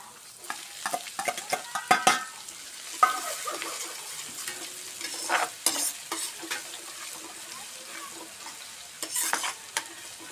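Onion tossed into a pan with browned garlic for a methi and potato dish sizzles softly, with scattered stirring scrapes and clatters rising and falling over about ten seconds.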